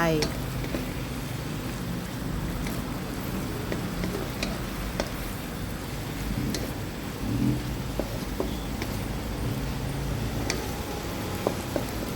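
Bitter gourd and egg stir-frying in a pan with oyster sauce, sugar, fish sauce and a splash of water, giving a steady low sizzle with occasional scrape and clink of the spatula throughout.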